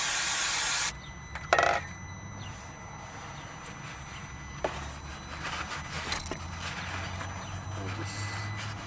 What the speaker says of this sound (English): spraying some more of this throttle body cleaner on here.